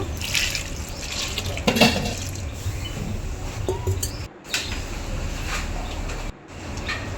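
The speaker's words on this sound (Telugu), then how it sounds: "ఇందులోకి కొన్ని వాటర్ అయితే వేసుకోవచ్చు" Water pours steadily into a pan of cooked cabbage, a continuous splashing flow with brief breaks near the end.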